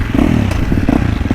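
A KTM 350 dirt bike with stock exhaust idles and blips close up, its engine pulsing in a quick, choppy rhythm with a short throttle rise near the end.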